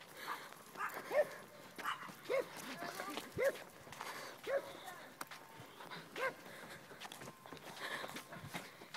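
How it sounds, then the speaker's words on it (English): Several dogs bark in short repeated bursts at a Halloween trick-or-treat doorstep, the barks spaced through the scene at moderate distance, with voices talking over and between them. "Killer dogs!"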